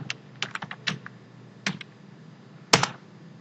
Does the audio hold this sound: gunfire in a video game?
no